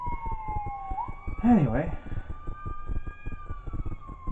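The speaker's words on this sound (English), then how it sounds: "Some sirens are going on." Fire department sirens wail in the distance, a long gliding tone rising and falling steadily while someone talks over it.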